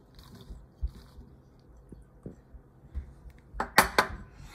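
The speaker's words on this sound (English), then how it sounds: "First, I'm going to add my macaroni" Macaroni tipped into a mixing bowl for macaroni chaat gives a few soft taps, then a louder close rattle and clatter of pieces landing near the end, with no voices.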